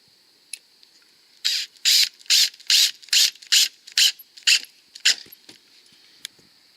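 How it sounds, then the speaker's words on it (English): A cordless screwdriver drives screws into a storm door drip edge on a Larson Savannah storm door, in nine loud, close, evenly spaced whirring bursts with a faint steady whine between them. "I'm going to go ahead and pre-drill my other 2 holes and then get those screws in also"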